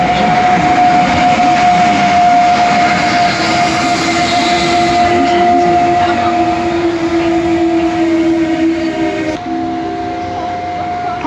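An Intercity passenger train pulls into a station platform, producing a loud, continuous rumble with a steady tonal whine that shifts slightly as it slows near the end.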